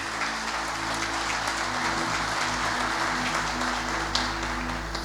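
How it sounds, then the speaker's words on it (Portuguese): Steady applause from a church congregation, sustained and fairly even throughout, with a low musical hum underneath. "Eu quero uma salva de palmas para Jesus."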